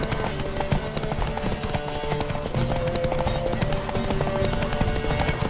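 Horse hooves galloping in The Witcher 3 during a horse race, a rapid, continuous clip-clop that stays loud and close throughout.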